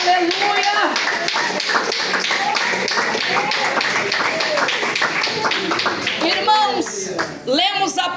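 Steady rhythmic hand clapping from a church congregation, continuing throughout beneath voices singing or calling out in worship.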